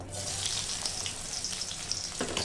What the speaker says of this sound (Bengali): কড়াইয়ের তেলটা গরম হয়ে গেছে। এবার কেটে রাখা পেঁয়াজগুলো দিয়ে দেবো।